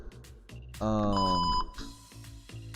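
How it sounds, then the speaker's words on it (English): A loud, harsh electronic buzzer blares for under a second with a dense harmonic tone amid Second Life wrestling match commentary, bracketed by short clattering and tonal game sounds. "That is a freaking annoying buzzer."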